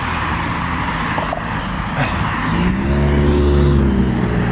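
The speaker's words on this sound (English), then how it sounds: "All these cars go in my direction and I'm on foot" Cars drive past on a road beside someone walking on foot, a steady engine and tire roar that swells louder toward the end as one vehicle passes close.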